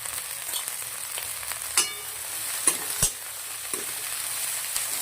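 Cabbage with a little salt sizzles in a frying pan, a steady hiss broken by a few sharp clatters and crackles as it is stirred, with no talking.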